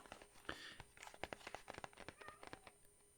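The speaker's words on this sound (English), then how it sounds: "my cat is meowing, probably wondering why I'm talking to myself" A house cat meows repeatedly in a quiet room, a string of short, soft calls coming close together at a moderate distance.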